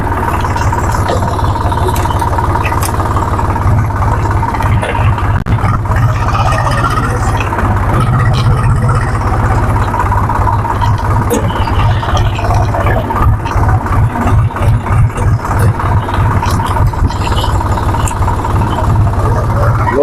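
A Swaraj 735 FE tractor with a well-maintained engine and gearbox runs steadily, giving a loud, continuous low diesel drone with a faint rhythmic chug that holds unchanged for the whole stretch, with no voices.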